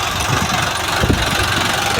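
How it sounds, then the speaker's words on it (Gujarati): A tractor engine idles close by with a loud, low, steady rumble and a faint knocking pulse, while a person talks over it through the short stretch. "જોઈ શકો છો આ ટ્રેક્ટર છે અહીંયા।"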